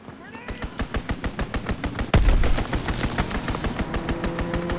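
Rapid strafing-run gunfire in Call of Duty: WWII, a steady rhythm of loud, evenly spaced shots, joined halfway through by a heavy boom and dense, continuous firing.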